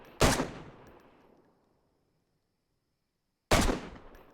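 Two loud, sharp gunshots in the survival game DayZ, the first ringing out with a decaying tail, then silence before the second shot cracks.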